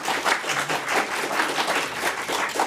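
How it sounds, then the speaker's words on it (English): A distinguished lecture audience applauds lecturer Janet Browne, a warm wash of dense clapping from a full room, steady and continuous. "Please give another round of applause for Janet"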